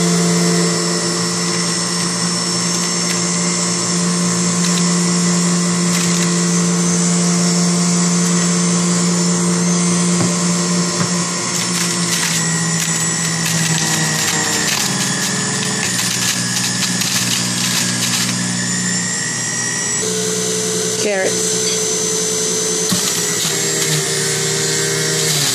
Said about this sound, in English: Let the juicing begin.